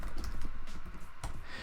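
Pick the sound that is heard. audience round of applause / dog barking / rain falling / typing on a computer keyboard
typing on a computer keyboard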